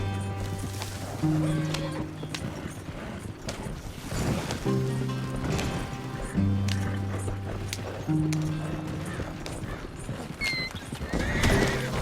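Horse in the Red Dead Redemption 2 video game, with clip-clop hoofbeats under repeated loud whinnies and neighs, close and clear, backed by a low musical drone.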